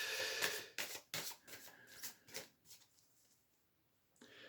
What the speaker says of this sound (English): I'm going to pull a few cards.